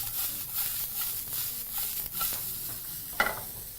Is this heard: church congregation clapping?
no